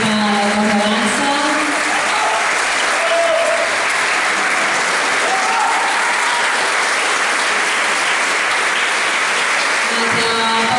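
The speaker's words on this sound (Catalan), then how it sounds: "un fort aplaudiment a la dansa" An audience applauds a folk dance group after a final pasodoble performance, with dense, steady clapping that stays loud and even throughout, accompanied by faint voices.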